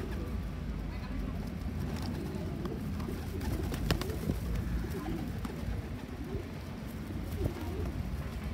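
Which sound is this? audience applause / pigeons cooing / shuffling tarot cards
pigeons cooing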